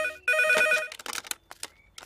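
A telephone rings in a Telugu comedy film, with one sustained electronic ring followed by clattering handling sounds as the receiver is picked up.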